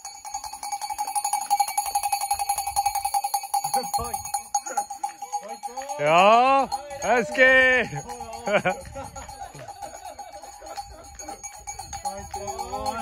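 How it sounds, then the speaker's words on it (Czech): Spectators at a small iron-man race in Melechov, 2020, ring cowbells in a steady, bright jangle that carries throughout, while voices cheer and call out over it. "Ty zvonce, ty mi pomohli!"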